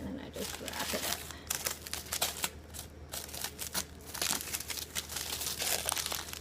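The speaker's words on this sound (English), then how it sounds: "Some plastic wrap." Plastic wrap is pulled and crinkled around frozen pizzas layered with parchment paper, with sharp crackling bursts and tearing rustles in an irregular rhythm close to the microphone.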